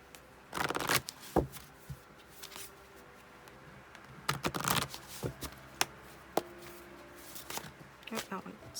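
Tarot cards shuffled in bursts of riffling and slapping, close and fairly loud, with short pauses between rounds and a voice talking now and then.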